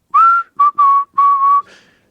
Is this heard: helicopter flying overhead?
no